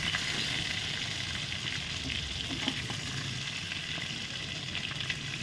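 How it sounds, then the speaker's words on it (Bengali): Tiger prawns fry in hot oil in a kadai with a steady, close sizzle and crackle. The sound is continuous and even, with occasional small pops and no voices. "এবার অপর পিঠটাও ভেজে নিচ্ছি।"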